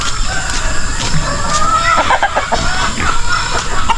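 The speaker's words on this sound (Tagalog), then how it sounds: "mga manok natin nandyan oh. kalat na" Free-ranging farm chickens clucking and chattering near the microphone, several birds overlapping in short, uneven calls with a brief crow-like cry mixed in over steady background noise.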